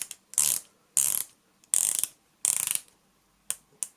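Ratcheting clicks from a DOXA Sub 200 dive watch's 120-click unidirectional bezel being turned, several short bursts of rapid close clicking separated by brief pauses.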